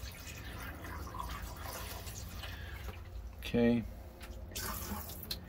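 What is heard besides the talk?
liquid poured down an RV sink drain, running tap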